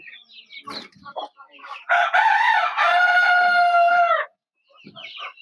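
A Brahma hen makes short, scattered clucks near the microphone, then a loud, drawn-out, strained call lasting a couple of seconds. A few softer clucks follow after a brief pause.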